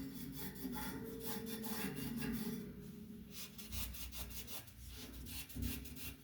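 Steady hand rubbing and scouring across a metal surface being cleaned and polished, a continuous close scratchy friction with uneven strokes and no talk.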